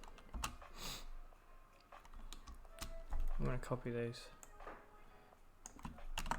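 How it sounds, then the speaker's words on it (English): Rapid clicking keystrokes on a computer keyboard during a JavaScript coding session, coming in bursts and pauses at close range, with someone speaking briefly over the typing. "My typing's been shocking lately."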